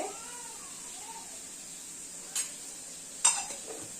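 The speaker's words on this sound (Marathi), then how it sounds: "आता इथे मी थोडंसं अद्रक मिरची आणि लसूणची पेस्ट घालते" Ginger, chili and garlic paste sautés in hot oil with a faint, steady sizzle, broken by a couple of brief utensil clinks.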